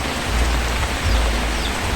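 Steady rain pours down outside a home, a dense, even hiss of falling water with no voices and no breaks.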